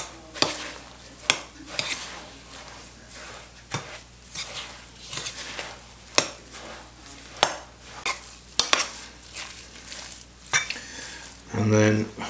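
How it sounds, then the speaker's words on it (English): Abalone cake mixture with breadcrumbs being mixed in a bowl, a rhythmic series of sharp utensil knocks and scrapes about once a second over a wet stirring sound, ending in a brief louder thump. "let's give this a bit of a mix"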